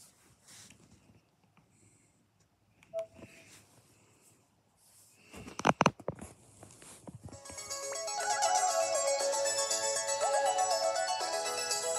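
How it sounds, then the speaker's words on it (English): Theme music from the swimming pool episode of Bluey plays from a homebrewed Nintendo 2DS XL, with a few clicks and taps before the bright, steady tune starts and continues alone. "Do you hear the music? That's from the swimming pool episode."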